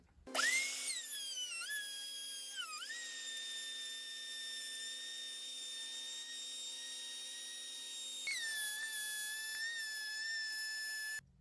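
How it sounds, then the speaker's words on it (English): A router fitted with a rabbeting bit cuts a rabbet along the inside of a wooden cornhole board frame, a steady high-pitched whine that dips briefly as the bit bites, running continuously for about eleven seconds before stopping, with no talking. "I'll cut a rabbet on the inside of the frame to put the plywood down in, and I'm going to be using this rabbeting bit"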